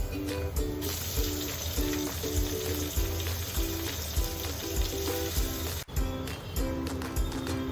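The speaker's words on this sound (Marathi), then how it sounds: "आपला कांदा टोमॅटो चांगला परतलेला आहे." Onion and tomato frying in a pan for mutton biryani, a steady close sizzle with rhythmic stirring and scraping, one brief dip near the end.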